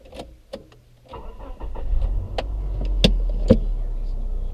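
A car with a 2.5-litre four-cylinder engine and four-speed automatic gearbox, likely a Subaru Outback, heard from inside on a test drive. A few interior clicks come first, then the engine starts and settles into a steady, moderate rumble.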